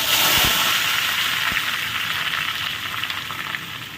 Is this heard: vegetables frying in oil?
yes